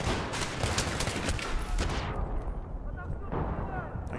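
Rapid bursts of gunfire and explosive booms from the combat video game Battlefield 3, loud and dense, with a louder stretch early on before the shooting thins out and then picks up again.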